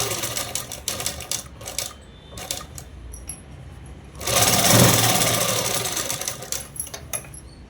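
Sewing machine stitching the lining of a child's langa jacket: bursts of rapid mechanical stitching start and stop several times, with one longer, louder run in the middle, close and clear with no talking.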